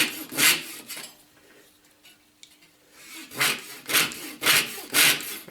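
A saw cuts through MDF near delicate protruding aluminium pieces, with bursts of rasping strokes early on, a quieter gap, then several loud, rhythmic back-and-forth sawing strokes close by.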